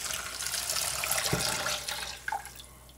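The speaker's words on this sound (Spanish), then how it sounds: "ponemos nuestra hoja de laurel y ponemos 1 litro aproximadamente de caldo" Fish and vegetable stock, made from monkfish, hake and cod heads with leek, pours steadily into a cooking pot for a black-eyed bean and clam stew. It is a continuous splashing liquid stream with a small splash near the end.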